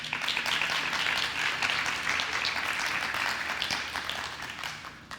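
An audience at a high school TEDx event applauds, giving a dense, sustained wash of clapping at a steady level that tapers off near the end.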